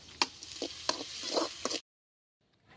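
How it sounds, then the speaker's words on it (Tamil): Onions sizzling and stirred in a pan for a country chicken curry, scraping stirs and soft frying hiss for nearly two seconds, close, then a sudden cut to near silence. "இப்போ வந்து வெங்காயம் நன்றாக வதங்கி விட்டது"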